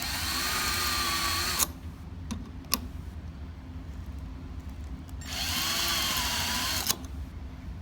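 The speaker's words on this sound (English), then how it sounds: "It drills you a little pilot hole and it keeps it centered" A power drill fitted with a Milescraft Hingemate jig bores a pilot hole in a bi-fold door, two loud whirring bursts separated by a quiet pause with a few small clicks and knocks.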